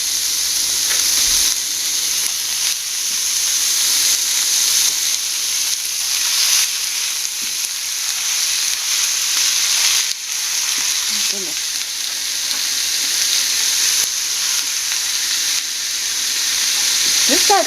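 Meat frying in a hot pan gives a loud, steady, close sizzle and hiss that runs without a break, with faint brief vocal sounds in a few spots.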